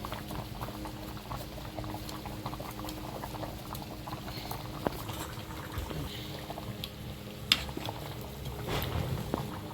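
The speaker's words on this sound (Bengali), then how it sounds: "মাছ দিয়ে কিছুক্ষণ ফুটিয়ে নিলাম" Assorted fish simmering in curry in a wok, a steady soft bubbling and popping that runs throughout at close range, with a few sharper spits and no talking.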